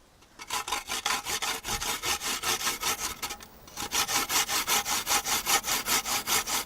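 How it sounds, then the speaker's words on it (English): A homemade grater of punched iron lard can is rubbed in a fast, even back-and-forth rasping rhythm, close and steady after a short pause, with no talking. "This grater was made out of the iron can, lard can, and the hole was punched with a nail in it."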